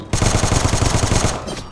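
Rapid automatic gunfire from the mobile shooter Guns of Boom, a steady burst of close, loud shots with a fast even rhythm that cuts off after about a second and a half, with no talk.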